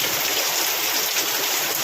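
Rainwater pours and gushes steadily, a dense, loud rushing flow that carries on without a break and without voices.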